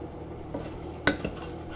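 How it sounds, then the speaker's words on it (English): Chicken curry being stirred in a cooking pot, with a quiet steady background and a few sharp utensil scrapes and clinks against the pot, the loudest near the middle, followed by a softer knock. "Give it another stir."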